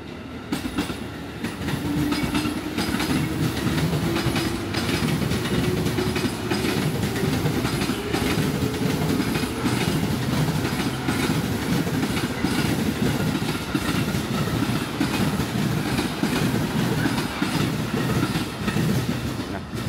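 A commuter train to Bogor rumbles past steadily with rhythmic clickety-clack of wheels on rails and a faint squeal, loud and close throughout.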